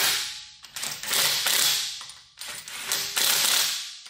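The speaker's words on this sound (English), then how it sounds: "now I'm ready to fasten the lug nuts. I use this impact wrench and torque stick" An impact wrench with a torque stick drives lug nuts onto a Honda Ridgeline in two loud, close, rattling bursts, each hammering for over a second with a short pause between.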